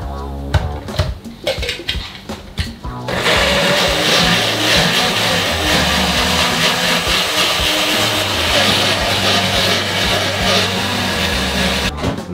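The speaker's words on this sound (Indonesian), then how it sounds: "Sekarang kita akan blender." Blender grinding a spice paste of candlenut and toasted coriander seed for an opor, a steady loud whir running for about nine seconds after a few seconds of clattering kitchen handling.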